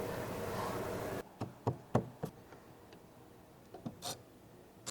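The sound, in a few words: creaking and cracking of long tile miter joints being folded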